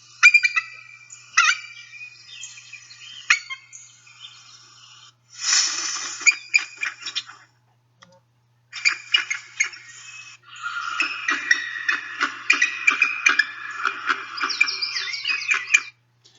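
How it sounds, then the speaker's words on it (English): A bald eagle gives a series of thin, high, chattering gull-like screams in bursts, fairly weak and squeaky, with brief pauses between runs. "the eagle produces a series of weak gull-like screams"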